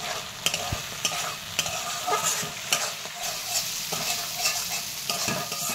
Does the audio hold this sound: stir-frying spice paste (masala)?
yes